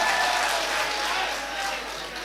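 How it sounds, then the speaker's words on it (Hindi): An audience at a mushaira, an Urdu poetry gathering, claps together in a dense, steady burst of applause that fades slightly toward the end. "एक बार झूम के ताली बजाओ"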